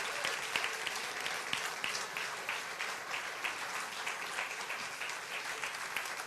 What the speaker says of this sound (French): Tu vas applaudir avec moi.